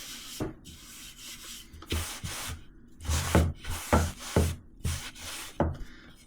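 A brush is swept over a wooden shelf board to clear sawdust, making a series of close, rhythmic scratchy rubbing strokes, about a dozen in quick succession, with no talk.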